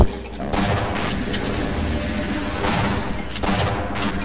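Gunfire in the video game Half-Life, a couple of sharp booming shots cutting through a dense, loud game soundscape, close and repeated, with no talk over them.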